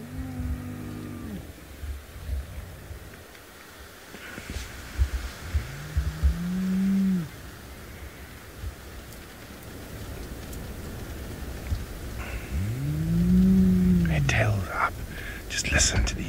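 Spotted hyenas call beside a parked safari vehicle at a den in the African bush, with rising and falling whooping calls sounding close and loud, two clear calls separated by quiet stretches, and soft low rumbles in between.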